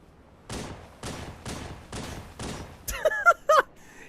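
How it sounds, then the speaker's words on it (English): A wizard in a Dark Souls mod fires a magnum in five evenly spaced, sharp gunshots, followed by a burst of brighter metallic clicks and rapid shots at the end. "Look out, that wizard's got a gun!"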